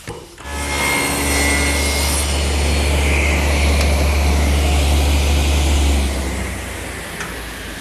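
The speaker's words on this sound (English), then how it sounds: "run the piece through the saw blade to bevel the top so that it'll be flat with the shelf" A table saw blade bevels the top edge of a wooden picnic table rail, a loud steady whining cut that spins up, holds for about six seconds, then winds down with no talk.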